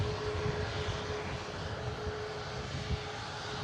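An Atlas Air Boeing 747 is moved at an airport: a continuous, broad engine roar that stays steady and fairly loud throughout, heard from a distance with no voices.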